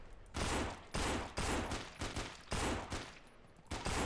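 Rapid bursts of gunfire from the zombie survival video game No More Room In Hell, several loud volleys in quick succession with short gaps between them, no talk over them.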